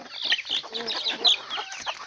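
A mother hen with her young chicks clucks softly in a leaf-strewn yard, with repeated short clucks and high peeping chirps in an irregular, close, quiet stream and no talking.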